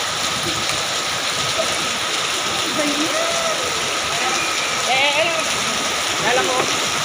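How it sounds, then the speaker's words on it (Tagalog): Steady, loud rain pours without a break, a dense broadband hiss that fills the whole clip, with faint voices and a few bird-like chirps rising over it. "Ulan."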